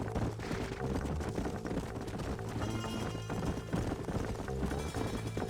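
Horse hooves clip-clop in the Western video game Red Dead Redemption, a busy galloping rhythm under dense game ambience and music that fills the whole stretch without pause.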